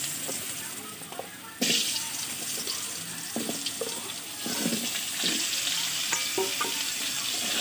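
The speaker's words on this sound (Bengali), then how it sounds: "আলুগুলো ভেজে নেব আমি লাল করে।" Cut potatoes fry in plenty of oil in a wok, a steady bubbling sizzle that surges louder partway through with scattered pops and clinks of stirring.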